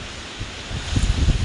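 Strong wind gusts buffet the microphone outdoors near sharp rocks, a broad rushing roar with low thumping bursts that build louder toward the end.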